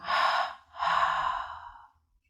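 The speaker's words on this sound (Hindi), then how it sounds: "नाक और मुंह से सांस छोड़ेंगे" Two slow, audible exhalations through the nose and mouth during a guided meditation breathing exercise, close and breathy, with a short pause between them and then quiet.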